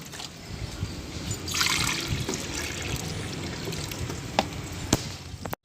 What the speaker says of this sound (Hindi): अभी मैं फिर से एक बार पानी को टॉप अप कर लेता हूँ